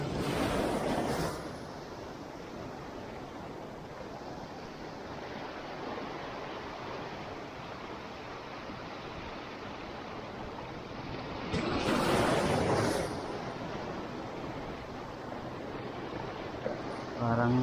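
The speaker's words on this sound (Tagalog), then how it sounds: "Medyo malakas yung mga alon." Heavy surf rolls and crashes continuously, with a louder wave breaking midway and wind buffeting the microphone.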